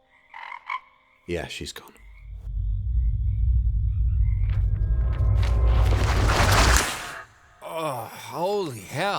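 A frog croaks loudly in an audio drama, deep rumbling croaks swelling over several seconds amid dramatic booming effects, with brief spoken lines before and after.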